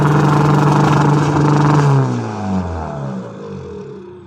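Loud, close revving of a straight-piped 2005 Seat Leon Cupra 1.9 TDI diesel, Stage 2 at 210 hp with a DPF delete and popcorn limiter, holding a high roar before the revs fall away into a rumbling idle.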